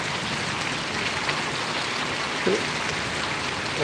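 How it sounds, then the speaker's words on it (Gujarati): Steady rain falls on Paravadi village in Gariyadhar taluka, an even, moderately quiet hiss of drops with no voices. "ખૂબ સરસ મજાનો વરસાદ પરોળી ગામને આંગણે પડી રહ્યો છે ભાઈઓ"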